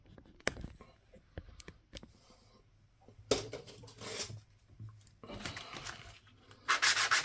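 Quiet scratchy rubbing bursts of sandpaper working over a 1930 Finnish one markka coin ring, irregular strokes with soft clinks in between, fairly close.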